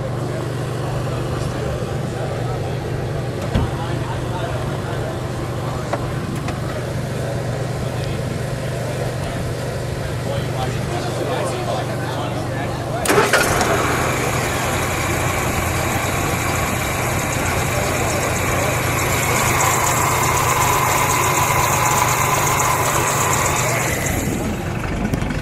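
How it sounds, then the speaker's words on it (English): A 1954 Sunbeam Talbot 90 Drophead engine turns over and catches about halfway through, then settles into a steady, fairly loud idle with a low rumble, after a quieter stretch of background noise. "let's start her up. We'll hear a little idle noise."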